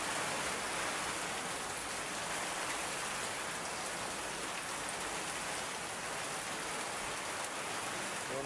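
Heavy, storm-like rain pours down steadily, a constant dense hiss of drops hitting surfaces, even and unbroken throughout at a fairly low level.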